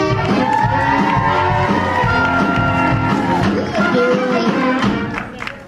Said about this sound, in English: Round of applause for Sage